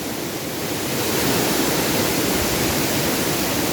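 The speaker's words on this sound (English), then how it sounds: "this should be the daughter waterfall" A large waterfall on a hiking trail roars as a steady, loud, broadband rush of falling water, constant throughout with no voices.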